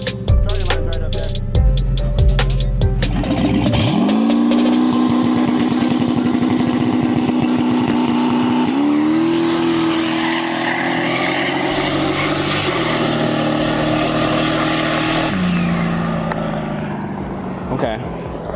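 A turbo V8 Hardbody truck revs near the starting line, then launches with a loud, rising engine roar that holds through the gears while people talk nearby, fading slightly at the end.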